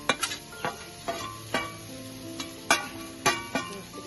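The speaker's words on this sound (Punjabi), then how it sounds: "ਸ਼ਿਮਲਾ ਮਿਰਚ ਪਿਆਜ਼ ਦੇ ਮਸਾਲਾ ਰਲਾਇਆ ਹੋਇਆ ਤੇ ਆਪਾਂ ਤੇਲ ਦੇ ਵਿੱਚ ਪਾ ਲੈਣਾ" Capsicum and onion masala frying in oil: a soft, steady sizzle close by, punctuated by a string of sharp spatula taps and scrapes against the pan at an irregular pace.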